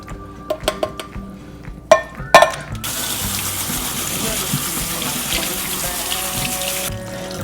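Liquid from canned black beans drains in a kitchen, a steady, close splashing rush, like running water into a sink, that follows a few sharp clinks and handling knocks and stops abruptly near the end.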